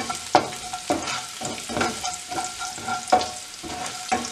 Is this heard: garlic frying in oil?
yes